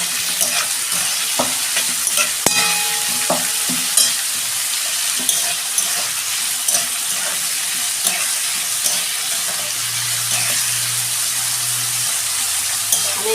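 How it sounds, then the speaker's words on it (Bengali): Chopped vegetables and green chillies with a little salt frying in a pan for rice chilli chicken, a constant close sizzle broken by repeated scraping stirs and clinks of a spatula. "আমি এইগুলো একটু ভালো করে ভেজে নেব।"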